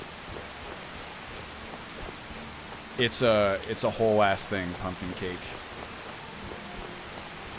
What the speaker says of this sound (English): Ooh, it's getting real rainy.